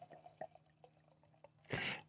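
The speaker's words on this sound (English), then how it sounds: "I'm just gonna pour this." Liquid is poured during a seated conversation: a few light drips and trickles, then a brief louder splashing gush near the end, close and quiet overall.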